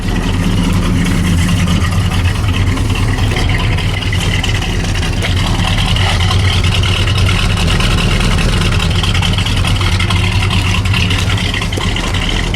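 A 1979 Pontiac Firebird Trans-Am with dual exhaust runs just outside the car, giving a loud, steady low rumble that holds without a break from start to finish.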